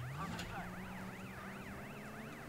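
Police car sirens in a GTA game sound continuously throughout, a loud wailing tone rising and falling in quick regular cycles over a low engine rumble, with no talking.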